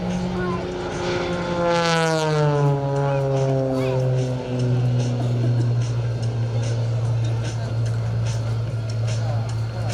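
An Extra 330 SC carbon-fiber aerobatic propeller airplane roars close by at an air show, its engine pitch sweeping down as it passes, then droning loudly and steadily overhead.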